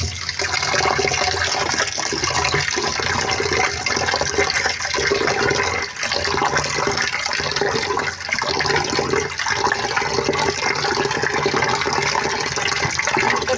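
Tap water runs steadily while lentils are washed for a Bengali home-cooked dal, a continuous close splashing and gushing stream with no voices.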